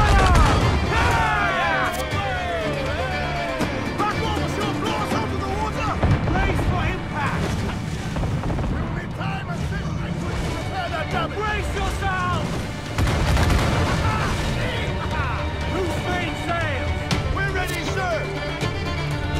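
Ship cannon fire during a naval battle in Assassin's Creed 4 Black Flag: repeated booming shots and crashing impacts roll through dense battle noise, with shouting crew voices and a player's talk layered over much of the fight.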